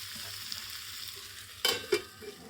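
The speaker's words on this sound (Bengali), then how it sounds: "মশলা দিয়ে ভালো করে কষে নিচ্ছি" Fried fish heads with spices being sautéed in a pan give a low, soft sizzle, broken by two brief, louder scraping stirs near the end.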